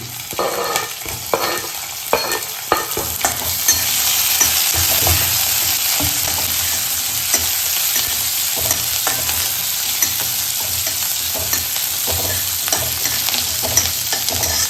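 Okra, garlic and green chilies sizzle steadily in a hot pan for an okra stir-fry, with repeated scraping stir strokes of a spoon cutting through the continuous frying hiss, close up and with no talking.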